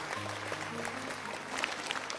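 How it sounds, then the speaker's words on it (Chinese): Studio audience applauding during a Chinese television arts talk show, a steady wash of clapping throughout with a faint low tonal hum underneath and no talk over it. "这个应该鼓鼓掌啊。"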